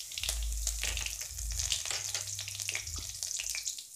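Curry leaves dropped into hot oil in a large pan crackle and sizzle loudly up close, a steady fry with bursts of spitting, with no one talking.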